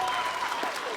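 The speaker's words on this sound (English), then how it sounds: "So please, applause for everybody" A school audience applauds the cast and crew after an Alice's Adventures in Wonderland production in Mongolia, steady full clapping filling the room with some crowd murmur.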